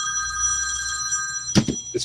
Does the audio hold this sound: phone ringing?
yes